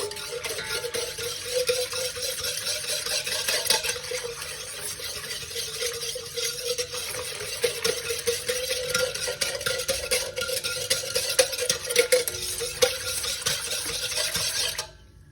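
Steady scraping and swirling of a spoon stirring a yeast and sugar mixture in a pan, continuous and close for about fifteen seconds with no talking.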